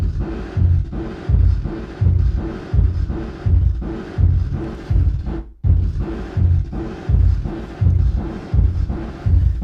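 Normalized tape machine explosion effect from an Airwindows plugin: loud, steady, throbbing low thumps that repeat in a pulsing rhythm with a brief dropout midway, close and alone with no voices.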